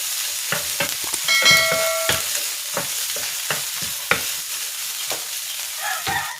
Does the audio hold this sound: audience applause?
no